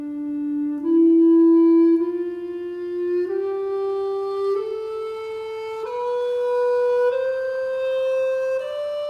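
The Dorian mode played as a rising scale of single sustained notes, about eight steps in an even, unhurried rhythm, with a clean, pure tone, clear and close, with no voices.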